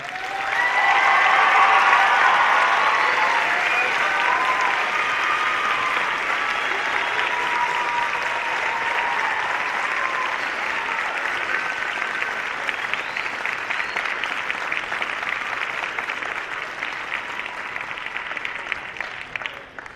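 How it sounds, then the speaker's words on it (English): Sustained applause from a large audience at a youth academy commencement, loudest at the start and holding steady for about twenty seconds before tapering, with faint voices mixed in. "Please give an applaud to all those cadets who are here today."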